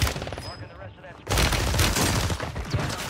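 Rapid gunfire from the Renetti in the shooter game Warzone 3 (Modern Warfare 3) erupts in a dense, loud volley of overlapping shots after a brief lull, with a player's voice talking faintly underneath.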